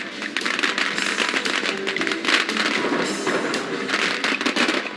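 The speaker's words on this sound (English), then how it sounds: "Firecrackers are very noisy and smoky." Firecrackers go off for Chinese New Year in a continuous rapid string of crackling pops and bangs, loud and dense, with occasional heavier thumps throughout.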